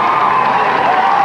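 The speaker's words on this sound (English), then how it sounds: "this is how huge crowds outside the court reacted as they heard the verdict" A huge crowd gathered outside a courthouse cheers on hearing a murder trial verdict read over loudspeakers: a loud, continuous roar of many voices, with whoops and shouts blended into a dense, steady wall of sound.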